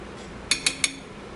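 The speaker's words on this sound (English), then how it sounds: "just stir in the noodles" Noodles are stirred in a stir-fry pan for a chicken stir-fry with red cabbage and cashews, giving three quick, close metallic clinks of a utensil against the pan in under half a second.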